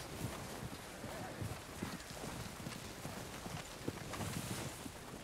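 Horse hooves clip-clopping quickly in Red Dead Redemption 2, a faint, steady run of hoofbeats under noisy background sound.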